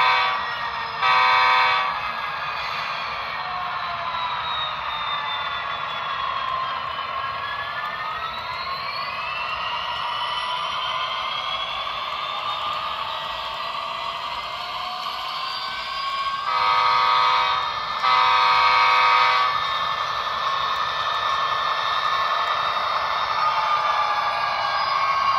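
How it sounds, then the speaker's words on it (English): An Athearn model diesel locomotive runs with a steady electronic engine drone and gliding, shifting tones. Horn blasts ring out briefly near the start and again in a pair of louder bursts later on. "That is a really neat sounding diesel locomotive there"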